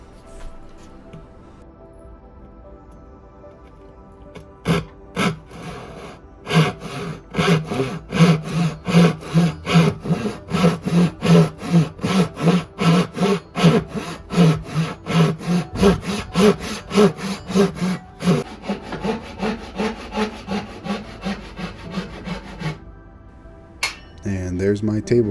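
Hand saw cutting a crosscut through an aspen board, steady rhythmic back-and-forth strokes that grow quicker and louder, then stop, with a few sharp knocks near the end.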